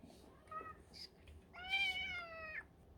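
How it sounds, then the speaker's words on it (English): A cat meowing: a brief, thin meow, then a longer, louder, drawn-out meow that rises and falls, over quiet background hiss. "cat attack"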